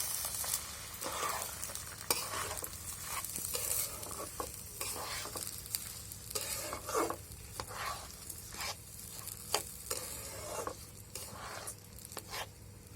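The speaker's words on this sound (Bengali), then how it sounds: "এটাকে আমি হালকা করে ভেজে নেব চালগুলোকে" Washed and drained basmati pulao rice fried lightly in a pot for chicken biryani, with a steady dry sizzle broken by repeated scraping strokes of a stirring spoon, close and alone.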